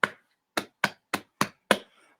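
A fist pounding on a chest as body percussion, six dull hollow thumps in a fairly steady beat, close and moderately loud with a brief pause after the first strike, no voices.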